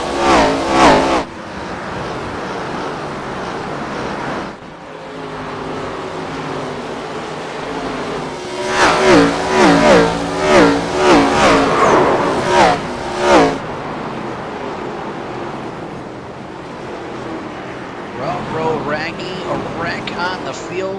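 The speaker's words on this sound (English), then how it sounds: "listen in to these cars fly by here tonight" ARCA Series race cars roar past one after another, engines rising and falling loudly as they pass, with a brief lull before a dense cluster goes by.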